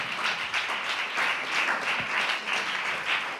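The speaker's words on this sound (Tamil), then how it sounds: "நல்லா கைத்தட்டி ஆண்டவருக்கு நன்றி சொல்லலாம் உற்சாகமா." A church congregation claps together in a steady, lively round of applause that fills the room.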